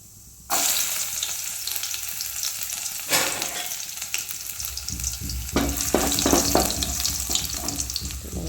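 Garlic hits hot oil in a pan with a sudden loud sizzle, the frying hiss staying strong and steady and swelling with stirring bursts, nearby and with no voices.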